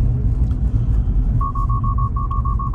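A Tesla on Autopilot sounds a warning about bad road condition ahead: a rapid series of short, evenly spaced electronic beeps over the steady low rumble of the moving car's cabin.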